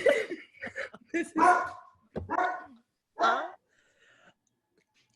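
A deaf pet dog that has burst into a room, barking a few times in short loud bursts close by, mixed with a person talking.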